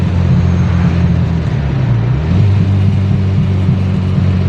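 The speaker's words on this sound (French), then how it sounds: "on entend même le moteur qui pop" A Fiat X1/9 engine runs loud and steady with a low rumbling drone and popping, its pitch dipping and then rising again, with no one talking.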